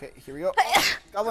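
A single sharp sneeze bursts out between bits of casual talk during a livestreamed tabletop game session.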